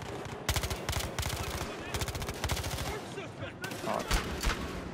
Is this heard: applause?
no